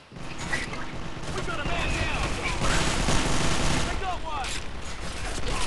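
Rapid Uzi gunfire bursts in an arctic combat video game, dense and continuous with explosions and effects layered throughout, loud and sustained over several seconds.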